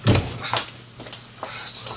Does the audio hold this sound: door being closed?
yes